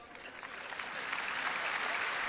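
Audience clapping at a Hindi comedy poetry gathering in Raipur, a soft, steady wash of applause from a distant crowd that builds gently over a couple of seconds without any voices on top.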